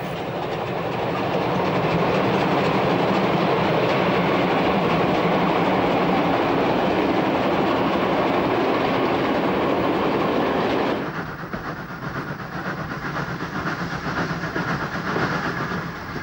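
A P8 steam locomotive hauling a train through the Dornstetten area near Freudenstadt makes a loud, steady rumble and clatter of rolling stock, and the sound drops to a duller roar partway through.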